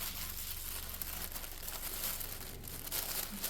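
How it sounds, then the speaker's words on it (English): Tissue paper crinkles and rips while a luxury Hermes purchase is unwrapped, a continuous close rustling with soft tearing bursts and no talking. "I really don't like ripping their tissue paper."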